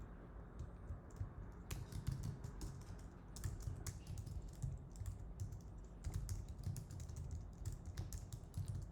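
Steady typing on a computer keyboard while writing Python code, a dense run of close, crisp key clicks with brief pauses, alone without talk.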